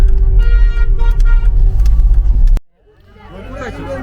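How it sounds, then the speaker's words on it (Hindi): Heavy road traffic on the way from Srinagar to Gulmarg, a loud close engine drone with horn-like tonal honks for a couple of seconds, then an abrupt cut to quieter street noise. "यार ट्रैफिक बहुत है, जितना मैंने सोचा था उतना है, उससे बहुत ज्यादा ट्रैफिक है यहाँ पे।"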